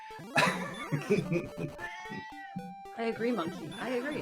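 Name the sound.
pet cat meowing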